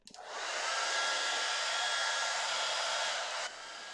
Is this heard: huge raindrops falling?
no